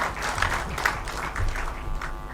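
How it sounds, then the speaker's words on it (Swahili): Audience applause at a church gathering, a dense wash of clapping from many hands, fairly close and steady throughout. "Pigeni makofi."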